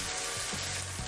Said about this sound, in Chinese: 咱们将豆腐煎到2面金黄，豆腐一面煎到金黄以后再翻面